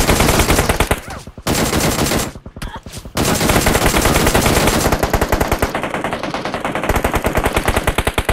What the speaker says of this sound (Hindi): भाई एनिमीज अहेड भाई कवर फायर दो एक नंबर मारो आगे